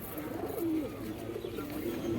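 A pair of Jack pigeons at the Birnagar market give soft, low cooing calls, faint against a murmuring market background.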